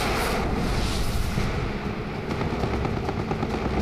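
Two kamikaze planes strike their target in a continuous, heavy roar of explosions and fire, dense and loud throughout, with no separate blasts standing out.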